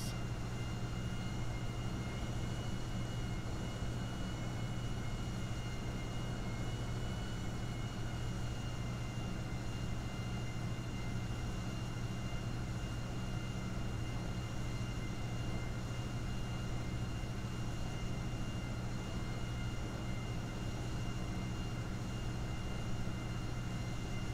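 A steady, droning aircraft engine hum from a plane taxiing in GTA 5, continuous and fairly loud throughout with no pauses or voices.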